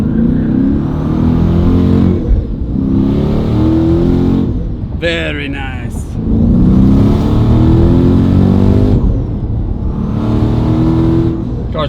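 Twin-turbo Dodge Challenger 392 engine droning steadily at cruising speed, a continuous loud mid-range rumble with slight swells, while someone talks over it for most of the stretch.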